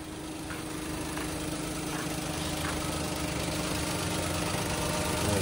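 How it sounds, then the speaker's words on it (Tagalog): A Toyota Wigo engine idling smoothly and quietly after repair, a steady, even low hum with faint mechanical ticking, heard close with no talk. "napakatahimik na ng kanyang andar mga boss"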